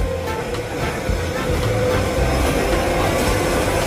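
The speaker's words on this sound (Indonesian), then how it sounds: "ini adik lagi naik kereta" A steady rumble and rattle of a small children's ride train rolling along at an educational dairy attraction in Kepanjen, Malang, East Java, with continuous wheel noise and clatter throughout.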